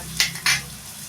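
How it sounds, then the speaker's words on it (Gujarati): Fried dumplings for Gujarati umrani kadhi tipped into a pan, giving two brief splashy sizzles with a clink of utensils against the pan, close up and otherwise quiet. "ગોળીઓ તળાઈ ગઈ છે તો તે આપણે આમાં નાખી દઈશું હવે"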